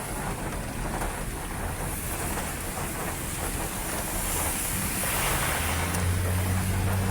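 Heavy rain pours down outdoors in Saudi Arabia, a constant loud wash of hiss and rumble that swells slightly toward the end, with no one speaking.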